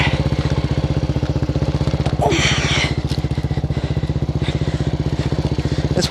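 A Suzuki DRZ400SM supermoto sits running off-road in the woods, its single-cylinder engine idling in a steady, close, rapid thumping rhythm, broken by one brief clatter partway through.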